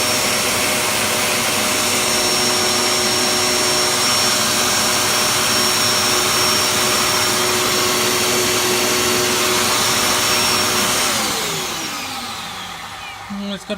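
Blue Hoover Pure Power 1900 watt bagged vacuum cleaner running, a loud steady whine and rushing airflow that holds constant, then spins down with falling pitch as it is switched off near the end.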